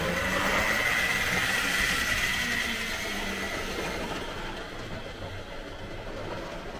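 A Hornby GWR pannier tank model locomotive hauls modern freight wagons along the track with a continuous rolling rumble and whir, close at first and slowly easing away.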